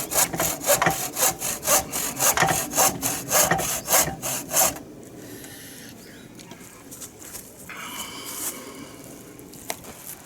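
A hand saw makes an angled cut through wood during a bird hide build. It gives a rapid, rhythmic rasp of about a dozen close strokes for several seconds, then stops, leaving quiet handling and scraping sounds.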